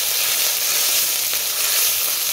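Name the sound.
frying chili, ginger, cumin and coriander paste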